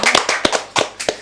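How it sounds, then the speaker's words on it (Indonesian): Short burst of audience applause at a podcast-style talk event in Jember, a few sharp overlapping claps over about a second, close and fairly loud with no talking. "Oke, tepuk tangan dulu."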